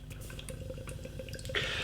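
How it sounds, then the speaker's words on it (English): IPA beer poured from a can into a glass, a soft run of drips and liquid gurgles that builds into a brief fizzy splash at the end, close and fairly quiet. "While I pour this beer"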